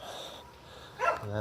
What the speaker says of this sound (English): that's the dog that always barks at me